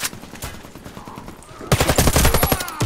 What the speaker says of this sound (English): Got my pistol out, son.